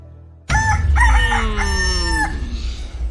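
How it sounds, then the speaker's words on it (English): A rooster on an island crows once, loud and close, a full cock-a-doodle-doo bursting in abruptly and stretching out for nearly two seconds before trailing off over faint background noise. "I guess there's a rooster on this island."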